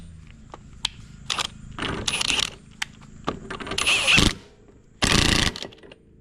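A hand ratchet tightens the rear axle nut on a 2005-11 Honda Foreman 500 ES ATV, giving several short bursts of clicking close by, separated by brief pauses and metallic taps.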